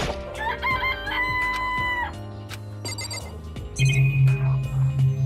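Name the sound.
chickens clucking and crowing in a video game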